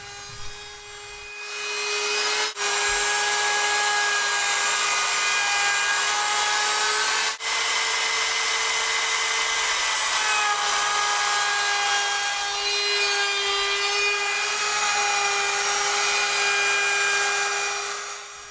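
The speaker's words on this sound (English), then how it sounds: "Then all the sharp corners of these spokes need to be rounded off." Wooden wagon wheel spokes having their sharp corners rounded off by a power tool, a loud, sustained whine with a steady pitch and two brief dips, close and continuous.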